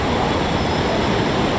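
Floodwater in the Koundanya River at Gudiyatham after heavy rain, a loud, continuous broadband rush of water close by, with no voices.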